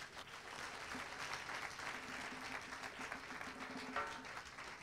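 A church congregation applauds in steady, sustained clapping that fills the whole stretch at moderate, distant-sounding volume with a faint murmur of voices mixed in.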